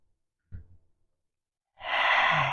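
A deep yoga exhale, heard as a long, steady breath out of about three-quarters of a second after a brief soft intake, close and fairly loud with no talking.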